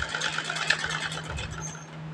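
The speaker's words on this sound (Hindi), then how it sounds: "इस तरह से हमें सिलाई लगाना शुरू कर दी है" Electric sewing machine stitching a kurta shoulder seam, a quiet, rapid, even needle clatter with a faint steady motor hum underneath.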